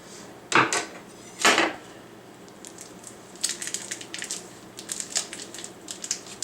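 A knife slicing open a package of ground beef for burgers in a home kitchen: two crisp plastic rips close up, followed by a scatter of softer crinkling and tearing sounds.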